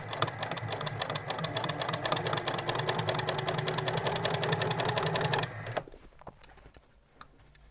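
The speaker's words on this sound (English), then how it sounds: "I'm going to do my back stitch, and then just gently pull until you feel that it's feeding through enough" A sewing machine stitches bias binding for bunting, running steadily and loud with a rapid even mechanical chatter for about five seconds before stopping, leaving faint handling noises.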